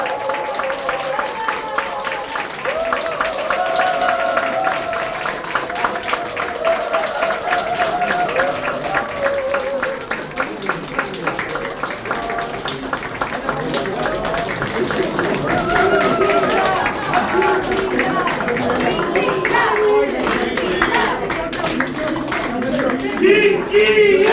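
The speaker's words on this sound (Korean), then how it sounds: "여러분 큰 박수와 함성으로 환영을 부탁드리겠습니다" A crowd of party members applauds and cheers to welcome a politician at a local party meeting in Pohang, with rhythmic clapping that swells toward the end, while a voice talks over the noise throughout.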